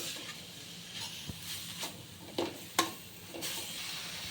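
Grated carrot frying in a pan for carrot halwa, a soft, steady sizzle broken by a few sharp stirring scrapes and clicks, close and fairly quiet.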